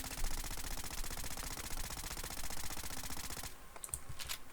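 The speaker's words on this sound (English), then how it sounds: "the minigun assault rifle here, appears to be somewhat of a bullet hose, just a low damage, high rate of fire thing" A minigun assault rifle in Fallout 4 fires a dense, rapid stream of shots for about three and a half seconds, then cuts off, leaving faint ticking and quiet clicks.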